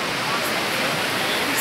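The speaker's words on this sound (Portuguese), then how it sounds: "Ó, pessoal, barulho do mar aí," Sea waves breaking on a beach, a loud, steady wash of surf noise that fills everything with no pauses, heard close.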